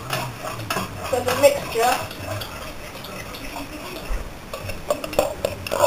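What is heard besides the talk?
whisking eggs with a fork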